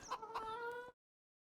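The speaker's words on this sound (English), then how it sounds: "Chickens. Too many of you." Chickens clucking in the farming video game Farming Simulator 25, a short tonal cackle with a couple of sharp accents, close and clear, ending abruptly in silence.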